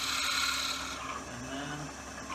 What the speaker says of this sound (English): go ahead and slowly drill through.